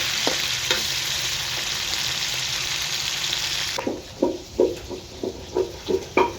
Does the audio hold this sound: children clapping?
no